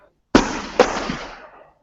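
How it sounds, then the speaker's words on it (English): Fireworks going off outside, two sharp bangs a moment apart, each followed by a crackling, echoing decay that fades out within about a second. "We can hear fireworks too."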